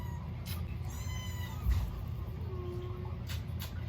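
A house cat meows several times, with thin, wavering calls rising and falling over a steady background hum and a brief low bump, fairly faint and without talk.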